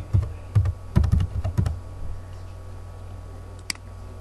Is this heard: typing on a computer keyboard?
yes